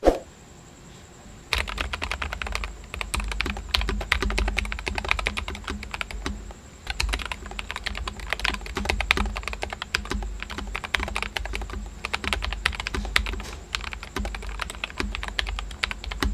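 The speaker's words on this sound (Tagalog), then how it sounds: "May bago silang MOS switch na may early bump tactile feel, perfect sa mga mahilig sa extra spicy typing." A Nuphy Air60 V2 mechanical keyboard with MOS tactile switches is typed on quickly and continuously, with dense clicky keystrokes after a short quiet start and a brief pause midway.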